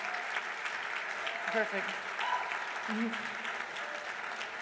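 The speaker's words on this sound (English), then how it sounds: "And honestly, a round of applause for all of them." Applause from an audience at a university athletics hall of fame ceremony honoring former teammates, steady and fairly distant throughout, with a voice speaking briefly over it.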